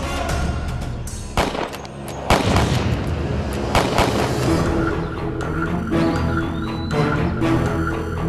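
Loud gunfire with several sharp booming shots at irregular intervals, echoing over a steady background, no speech.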